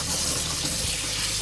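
Water runs from a tap while strawberries are washed in a sink, a steady close hiss and splash with no breaks.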